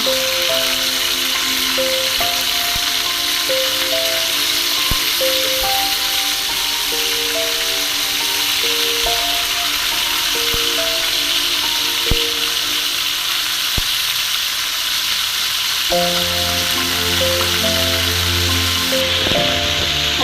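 Chicken meat fries in a pan with a loud, continuous sizzling hiss that holds steady for some twenty seconds, while a tuneful melody plays along underneath and occasional sharp clicks cut through.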